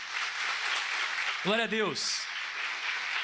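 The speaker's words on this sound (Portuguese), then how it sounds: "Aplauda bem forte ao Senhor" Church congregation claps loudly and steadily for the Lord in a Portuguese-language service, a voice speaking briefly over the applause.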